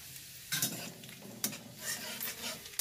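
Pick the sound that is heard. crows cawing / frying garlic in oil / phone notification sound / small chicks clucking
frying garlic in oil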